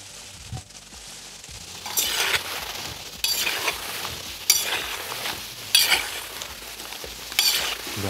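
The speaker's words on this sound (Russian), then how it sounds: "Да, картофель обжарился" Potato pieces fry in oil in a cauldron over an open fire, with several loud bursts of sizzling as they are stirred, mixed with occasional metallic clinks. No one speaks.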